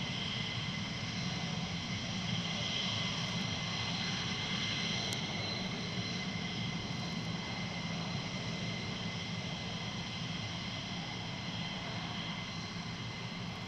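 F-15 fighter jets taking off at RAF Lakenheath, heard as a steady, loud, continuous roar of jet engines holding level throughout with a broad high whine, no talk.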